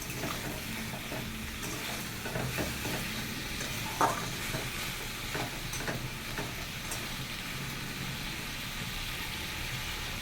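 Masala with salt and turmeric sautés in a pan for a fish curry with cauliflower, giving a continuous sizzle under repeated scraping stir strokes and one sharper clink near the middle, with no talking.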